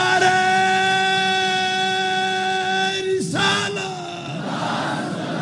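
A large crowd at a political-religious rally roars a drawn-out chant in unison, loud and sustained, then breaks off and starts a fresh call with a rising swell of voices.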